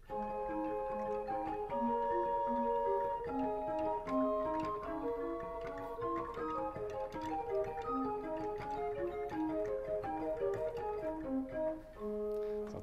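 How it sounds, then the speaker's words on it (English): A rare pipe organ sounds its four-foot stop alone, playing a lively run of bright, flutey notes in quick succession, clear and unaccompanied. "The forefoot by itself sounds like this."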